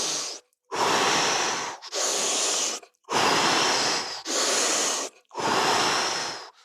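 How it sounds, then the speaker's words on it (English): Deep Wim Hof style breaths drawn fully in and out through the mouth, five long loud rushing breaths in a steady rhythm with short pauses between, close and alone. "we're going to breathe in through the mouth and out through the mouth."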